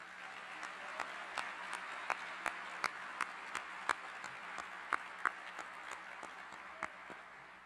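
Audience at a fall university convocation clapping for staff award recipients, a faint, distant wash of applause with scattered sharper individual claps standing out at an irregular pace across several seconds.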